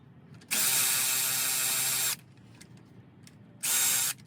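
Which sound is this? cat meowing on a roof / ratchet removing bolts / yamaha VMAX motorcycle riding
ratchet removing bolts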